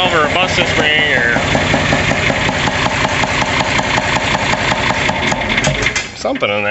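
Close, loud idle of a John Deere 4010 tractor fitted with a stock intake valve, an even knocking chug that holds steady, a voice running over it, before a brief dip near the end.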